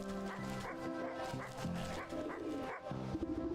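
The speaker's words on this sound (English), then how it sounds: "An anxious little dog attempts frantically to get the town guard's attention" A small, anxious dog in a video game barks and yips frantically in quick repeated bursts, with whimpering tones over a steady musical background.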